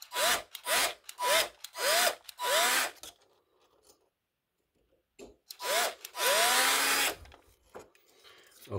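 Harsh rhythmic grinding bursts as a small rotary drill works the metal of a vintage Matchbox Opel Diplomat diecast model car, drilling out the windscreen; several short passes, a pause, then a longer sustained burst.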